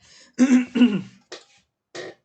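A person with a sore throat clears their throat up close, with two strong rasping bursts followed by two shorter, fainter ones separated by silence.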